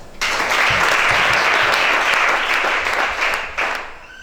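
A church congregation bursts into loud, sustained applause that fills the room, a dense wash of clapping holding steady for several seconds before tapering slightly near the end.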